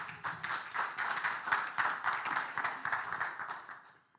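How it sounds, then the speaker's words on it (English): An audience at a talk on e-assessment in medical training claps for a speaker, a dense round of many hands swelling quickly, holding for a few seconds, then fading out to silence. "Please give him a very big round of applause."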